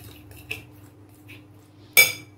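A spoon in a bowl of gram flour batter, two short metallic clinks, the second louder, in a quiet kitchen.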